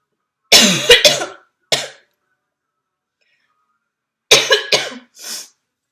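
Several sharp coughs close by, a quick burst of three, a single cough, then another cluster of three after a pause, with silence between.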